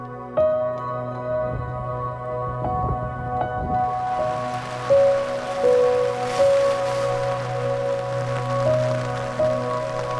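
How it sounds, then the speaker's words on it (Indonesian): Drizzle at a mountain shelter on Gunung Kerinci, a soft, steady patter of light rain that thickens partway through, with scattered drops and a few faint tonal hums underneath. "Tapi ketika menginjakan kaki di shelter 3, gerimis kembali datang."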